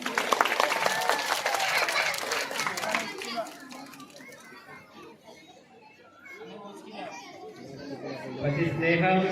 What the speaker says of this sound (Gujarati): જોરદાર તાળીઓ પાડીશું.